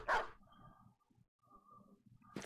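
A dog in the video game Battle Brothers gives a sharp, loud bark at the start, then a quieter stretch of muffled game sounds follows, and a second bark begins at the very end.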